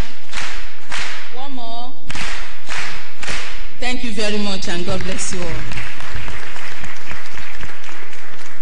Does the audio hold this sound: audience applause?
yes